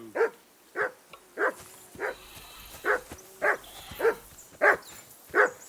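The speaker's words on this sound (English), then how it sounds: "Whistle at that mutt of yours to stop barking." A dog barks repeatedly in the medieval video game Kingdom Come: Deliverance, about nine evenly spaced single barks at moderate loudness with quiet gaps between them.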